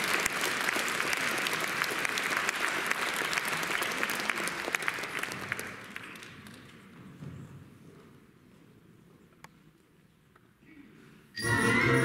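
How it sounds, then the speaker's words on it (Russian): Concert hall audience applauds after an announcement at a wind orchestra concert, dense clapping loud at first and then thinning and fading to sparse claps before a sudden new burst at the end. "Ваши аплодисменты."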